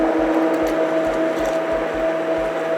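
Banana waffle batter whirring in a blender, a steady motor hum with regular low thumping pulses, loud and close, with no talking.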